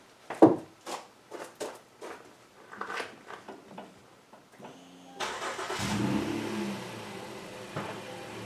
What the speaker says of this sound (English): let's fire the truck up